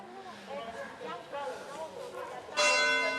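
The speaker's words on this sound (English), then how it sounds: "The bells, sorry, the bells." Church bells ring out at the cathedral in Noto, Sicily, starting suddenly and loudly near the end after a stretch of people talking, the bright ringing tones sustaining to the close.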